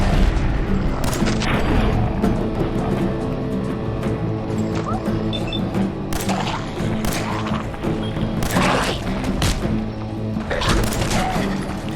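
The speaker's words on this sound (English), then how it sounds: "As he continues to shoot feral ghouls" Dense, sustained gunfire from a post-apocalyptic wasteland shooter set in the Commonwealth as feral ghouls are shot, with rapid overlapping shots, thuds and crashes forming a loud, continuous battle din.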